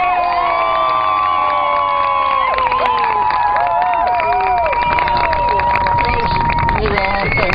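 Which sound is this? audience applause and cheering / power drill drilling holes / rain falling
audience applause and cheering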